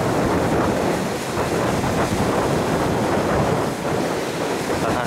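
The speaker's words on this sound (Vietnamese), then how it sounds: "Tình hình là nước gồng nhưng mà sóng nó vẫn khá là mạnh so với bình thường nha" Strong sea waves churn under heavy wind on a stormy shore, a dense, continuous roar with gusts buffeting the microphone.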